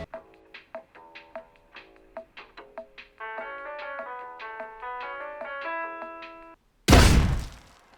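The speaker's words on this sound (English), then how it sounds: "dynamite, which explodes after 10 seconds" Scrap Mechanic video game sequence: a run of light plinking, chiming musical notes, then brief silence and a sudden loud dynamite blast that booms and fades near the end.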